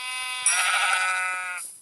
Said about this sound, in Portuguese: Nossa, tem muita ovelha aqui